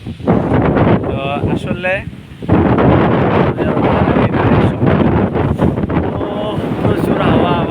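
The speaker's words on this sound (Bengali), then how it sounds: "প্রচুর হাওয়া হাওয়া হাওয়া।" Strong wind rushing through trees in a village field, loud and buffeting against the microphone, with someone talking over it.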